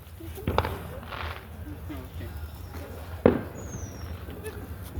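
Fireworks go off around town on New Year's: two sharp, distant-sounding bangs a few seconds apart, the second louder, with faint scattered pops and people talking nearby.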